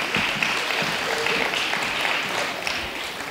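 An audience applauds steadily as a speaker is welcomed onto the stage at a children's folk dance festival, a dense, continuous clapping from a large crowd with no talk over it.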